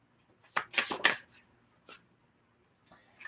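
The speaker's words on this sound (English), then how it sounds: "All right, last shuffle." Tarot cards shuffled by hand in a quick riffle burst of crisp flutters, followed by a few isolated soft card slaps and taps with pauses between, close and clear in an otherwise quiet room.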